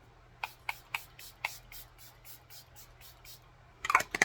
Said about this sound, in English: I am going to spray my face real quick with my Airbrush Flawless Setting Spray.